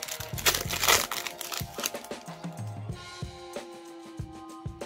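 Crinkly foil wrapper of a Magic: The Gathering Lord of the Rings Tales of Middle-earth booster pack being torn open and crumpled up close, a loud burst of crackling that settles into softer rustling.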